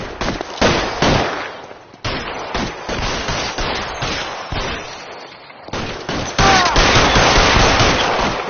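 Sustained gunfire from the L.A. Noire video game, a loud, dense barrage of repeated shots in clustered bursts that keep going almost without a break, some more distant than others.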